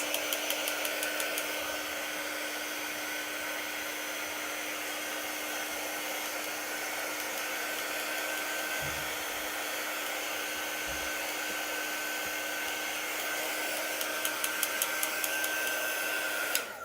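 A hair dryer blows steadily on chalk paint for the whole stretch, a constant close whoosh with a faint motor whine and a few small knocks of handling.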